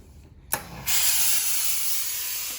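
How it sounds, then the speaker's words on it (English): A steam iron with a Teflon shoe sends out a burst of steam, a loud steady hiss that starts abruptly after a short click and holds on, close and alone. "this is all water in here. So you have a lot of steam."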